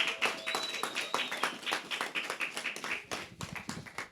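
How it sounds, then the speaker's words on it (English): An audience at a talk-show taping gives scattered, uneven applause to welcome a guest, light claps with some voices mixed in. "Give her a round of applause."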